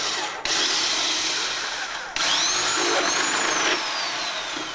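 A power drill bores a half-inch hole through the back of a cabinet behind a refrigerator, whining loudly and steadily with a brief pause and restart partway through.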